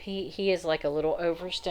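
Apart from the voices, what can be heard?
No everyday noises stand out.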